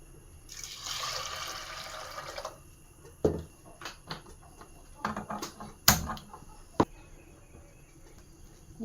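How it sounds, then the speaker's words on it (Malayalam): Water is poured from close by into a pot of soaked horse gram. A steady gush lasts about two seconds, followed by scattered drips, splashes and light clinks of the vessel. "വെള്ളം ഒഴിച്ച് കൊടുക്കുക"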